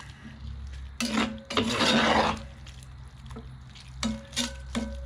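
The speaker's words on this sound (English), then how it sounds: "So I'm gonna stir this guy up." Goulash seasoned with salt, pepper, oregano and parsley is stirred in a Dutch oven, giving a few scraping, clattering strokes with a burst of louder stirring in the middle, close and alone without talk.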